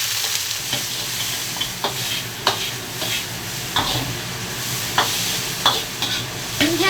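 Chopped ginger, celery and scallion stir-frying in hot oil in a wok: a loud, dense sizzle runs throughout, punctuated by regular clinks and scrapes of the spatula, close up and with no speech.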